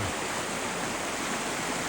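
Flowing water of the Kaveri river near a dam makes a steady, dense rushing roar, constant and loud throughout with no voices over it.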